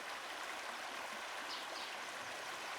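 A river flowing steadily past its bank, a constant broadband rush of water with soft trickles, uniform and close, with no voices.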